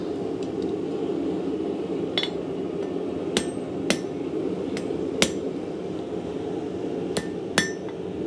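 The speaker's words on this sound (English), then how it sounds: "I'm going to be hammering directly on those ears." A hammer strikes hot steel while shaping the ears of a bulldog-shaped bottle opener, giving about eight sharp, ringing blows at irregular intervals over a constant low roar of the forge.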